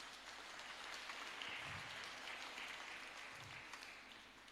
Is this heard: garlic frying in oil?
no